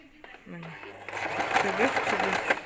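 A sewing machine runs a straight stitch, its steady whir building up beneath a voice talking throughout.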